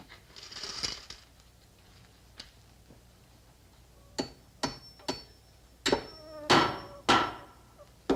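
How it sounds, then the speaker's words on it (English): Several sharp taps of a hammer striking nails into wood, spaced irregularly and then coming in a quicker cluster near the end, close and fairly quiet with no talk. "I guess nail hammering's too hard."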